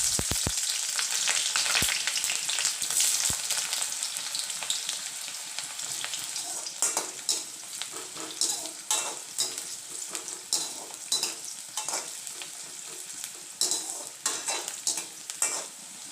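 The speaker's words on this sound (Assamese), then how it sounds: "পিয়াজখিনি অকণমান গোল্ডেন কালাৰ অহালৈকে ভাজি ল'ম।" Chopped onions frying in plenty of mustard oil in a wok, a steady bright sizzle with a few sharp clinks of a spatula at the start and repeated scraping stirs, no talk.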